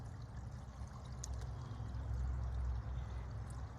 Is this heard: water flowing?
yes